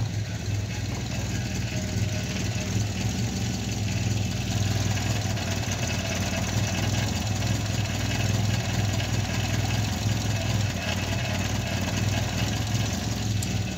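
A Renault 11 GTL engine with a newly replaced manifold idles steadily and smoothly, a continuous low mechanical hum and rumble close to the microphone with no voices throughout.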